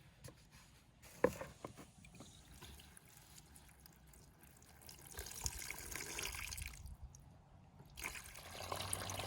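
Water trickles weakly out of a hose attached to a rain barrel with barely any pressure, making a faint, steady, low-level flow with a few small splashes near the start.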